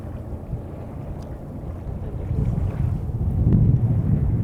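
Sailboat moving slowly through protected waters, with a low wind rumble and a soft rush of water along the hull that grows a little louder toward the end.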